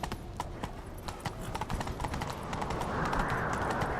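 Rapid horse hoofbeats in a video game (The Witcher 3: Wild Hunt) clatter in a fast galloping rhythm, close and steady, with a rising rush of wind or movement noise building toward the end.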